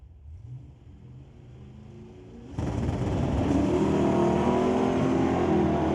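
Samstrap Racing Pontiac drag car launching down the strip at Mission Raceway Park against another racer, with a low rumble that jumps into a loud, sustained full-throttle engine roar partway through.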